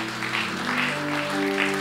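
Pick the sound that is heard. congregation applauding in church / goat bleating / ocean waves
congregation applauding in church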